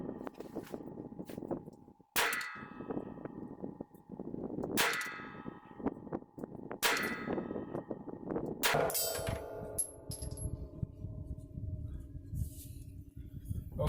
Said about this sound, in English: we'll go ahead and shoot 20 yards with the brace